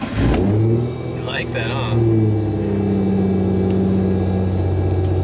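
A Nissan Z drift car fires up on its push-button start, then a steady mid-pitched engine idle runs close and loud while someone speaks briefly over it.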